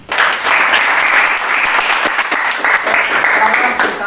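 A classroom group claps for group six's presentation in one continuous round of applause, loud and close, holding steady for about four seconds and thinning briefly near the end.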